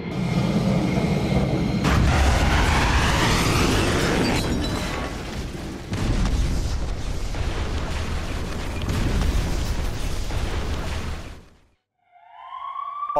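Explosions from an Israeli air strike on Hamas positions roll as a loud, sustained, rumbling roar with heavy booms. The roar fades out near the end, and a brief tonal electronic sound follows.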